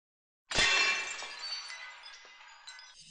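A sudden loud crash of breaking glass, one sharp impact followed by a long bright shimmer of shards scattering and tinkling as they fade out over a couple of seconds.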